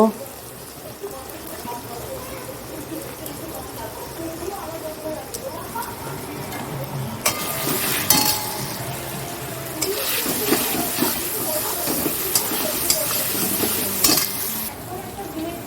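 Garlic-ginger paste, green chilli and turmeric fry in a pan. A steady sizzle grows louder and denser after the first few seconds, with stirring scrapes and occasional utensil clinks, and a voice is faintly present at times.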